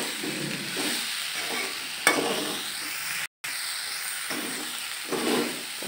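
Raw banana slices with salt and spices sizzle and crackle in a pan for a varuval, with intermittent scraping stirs, one sharp clink and a brief dropout, close by and with no talk.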